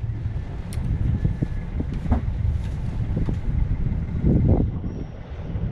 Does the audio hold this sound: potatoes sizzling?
no